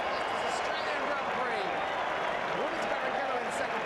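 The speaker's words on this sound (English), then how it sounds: "That's the team, of course, applauding the 71st victory" Members of the Ferrari Formula 1 team applaud Schumacher's 71st victory at the 2004 Australian race, a dense wash of clapping and crowd noise under constant background commotion.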